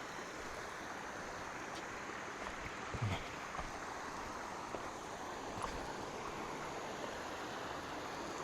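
Water pours steadily down a waterfall in Salavan, a constant broad rushing heard from a moderate distance with no voices, faint and even throughout.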